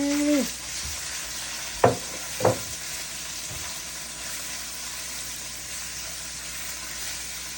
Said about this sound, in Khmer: យើងឆាវាឲ្យរៀងសកត់តិចទៅចាំយើងចាប់ផ្ដើមដាក់គ្រឿងទៅណាបងប្អូន